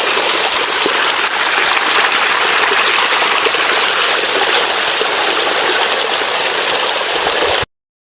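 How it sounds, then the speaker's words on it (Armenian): A waterfall roars continuously at close range, a loud, steady rush of falling water that cuts off abruptly near the end. "կամարի տակով հոսում է կապույտի ջրվեժը"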